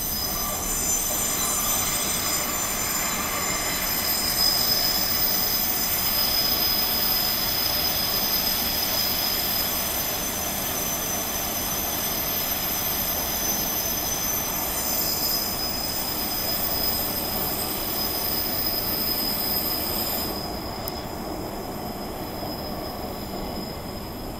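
A passenger train runs slowly toward Claisebrook station, its wheels squealing in a sustained, piercing high whine over a steady rolling rumble that lasts the whole stretch and eases slightly near the end.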